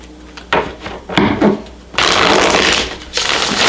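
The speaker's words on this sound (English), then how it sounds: "Give it a good shuffle." Tarot deck of black and white cards being shuffled by hand, with repeated riffling, slapping and sliding bursts of card noise that grow denser and louder toward the end, close up and with no talking.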